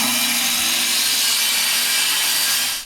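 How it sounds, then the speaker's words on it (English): A power saw cuts through plywood for an outhouse floor. The loud, harsh cutting roar is close and continuous for about three seconds, then stops abruptly. "Another day, another piece of plywood getting cut."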